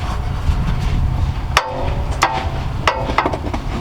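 A flathead screwdriver pries the CV axle out of a Lexus LS430, giving a few sharp metallic clicks and pops against a low background rumble.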